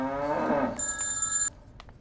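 Telephone ringing with a short electronic bell tone, cutting off abruptly after well under a second.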